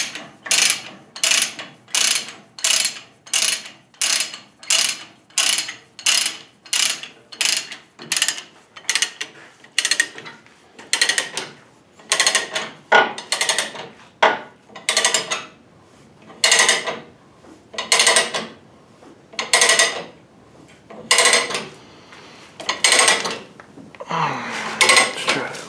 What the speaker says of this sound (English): We're going to pull with one of these, a threaded or ratcheted load binder.